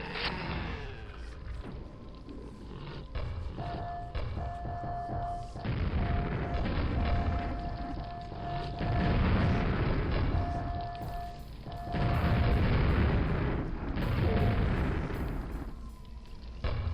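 Projectiles explode repeatedly in Quake: Dissolution of Eternity, with booming blasts and bursts rolling over a dense rumbling game soundscape, and intermittent tonal beeps between them.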